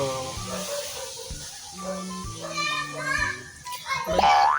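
Noisy children playing and chattering close by, high voices overlapping and calling out, with a squealing rising cry near the end.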